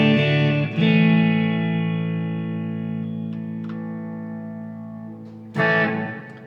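Electric guitar on its neck pickup through a Frenzy Capricorn fuzz pedal from AliExpress: a loud saturated chord struck, restruck, then left to sustain and slowly decay, with a few light note touches before a final hard strum.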